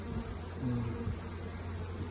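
Honeybees shaken off frames buzz in front of their hive in a low, steady hum, as though many are flying around close by, with no voices.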